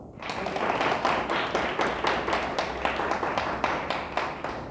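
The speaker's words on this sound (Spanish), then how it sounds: "Dele fuerte el aplauso a Dios" A church congregation claps loudly together in praise, the hands falling into a fairly steady, rhythmic beat that rings through the hall and fills the whole stretch without pause.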